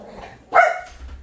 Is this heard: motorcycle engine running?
no